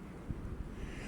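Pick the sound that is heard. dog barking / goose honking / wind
wind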